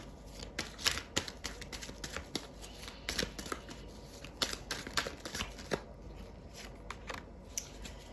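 Soft rustles and light flicks of a tarot card being drawn and handled, close and quiet with a faint background hiss.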